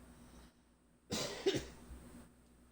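A person gives one short, dry cough, close but fairly quiet, in an otherwise hushed room.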